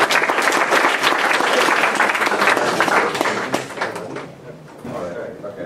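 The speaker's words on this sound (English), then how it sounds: "All right, we'll give a round of applause." A student game development club meeting at Iowa State breaks into a dense round of applause from the room, loud and steady, thinning out near the end.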